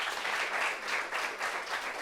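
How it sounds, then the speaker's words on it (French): Audience applause breaks out at a gathering, a steady wash of many hands clapping at moderate volume with slight swells and no voices over it. "Applaudissements pour ça."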